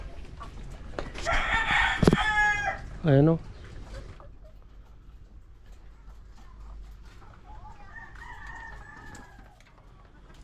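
A rooster kept among laying hens in battery cages crows loudly and close by, followed by quieter clucking from the chickens, while someone speaks briefly over the birds.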